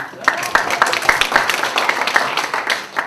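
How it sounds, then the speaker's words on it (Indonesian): Audience at a talk in Indonesia breaks into applause, a dense, fairly loud wash of many hands clapping steadily for a few seconds with some voices underneath. "Menurut saya ini harus diapresiasi, tepuk tangan dulu nih."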